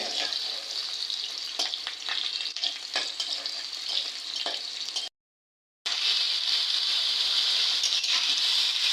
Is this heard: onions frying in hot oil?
yes